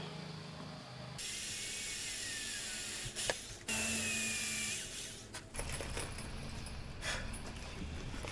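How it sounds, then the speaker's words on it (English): Screws being driven to mount an SW Motech tank bag on a Yamaha R7 motorcycle, heard as close mechanical whirring and ratcheting bursts with small metallic clicks and knocks, no talking. "Putting the second lots of screws in."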